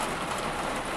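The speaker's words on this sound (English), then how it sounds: "It's pouring down raining out here, man." Heavy rain pours outside near public housing projects, a loud, dense and unbroken hiss that fills the whole moment with no voices over it.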